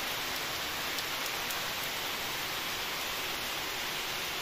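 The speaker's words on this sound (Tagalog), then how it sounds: "lakas ng ulan." Heavy rain pours down in a constant, dense roar of noise with no breaks, steady and close throughout.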